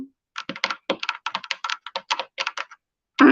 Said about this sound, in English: Now I'm clapping my nails together.